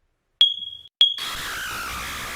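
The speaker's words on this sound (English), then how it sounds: "I know whose smoke detector battery been dying since Biden left office." A smoke detector with a dying battery gives two sharp, piercing chirps about half a second apart, the second cut short as a muffled background hiss takes over, no voices.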